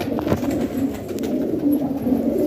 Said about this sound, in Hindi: तकरीबन रंगदार कबूतर घूम रहे हैं जी